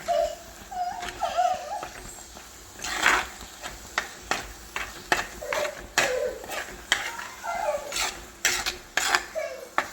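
A spoon scrapes and clinks steadily around a pot of mango pachadi cooked with a little turmeric, giving repeated close taps at an uneven rhythm, with a faint voice murmuring now and then.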